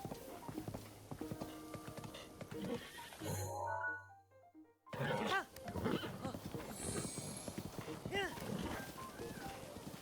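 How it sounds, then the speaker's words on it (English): Horse whinnies in Hyrule from a Zelda game, among near hoof clip-clops and game sounds, with a voice talking over most of it. "This horse is gonna kick me off pretty soon."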